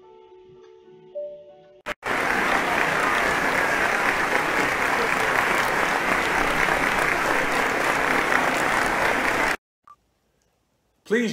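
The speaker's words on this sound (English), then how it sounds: "Please join me in giving all of our participants another round of applause." Audience applause for talent show participants erupts suddenly and holds loud and even for several seconds, then cuts off abruptly into near silence with a brief burst returning at the end.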